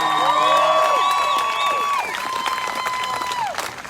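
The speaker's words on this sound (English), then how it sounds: "Let's give him a round of applause, the future governor of Pennsylvania." Crowd applause and cheering at an outdoor Freedomfest rally for State Senator Douglas Mastriano, with whoops and shouted voices over steady clapping, loudest at the start.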